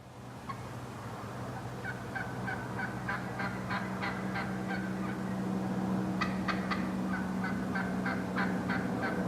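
Wild turkeys gobble across Tennessee hills on a spring morning, with repeated rattling calls from several birds at moderate distance, some overlapping, over a steady low rumble of background.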